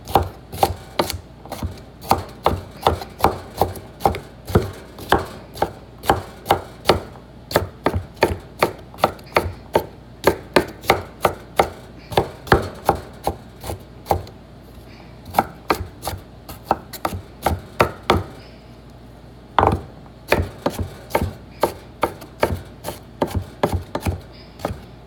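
A knife chops radishes on a cutting board in a steady run of crisp, close, evenly spaced blows, about forty strikes with a couple of brief pauses and no talking.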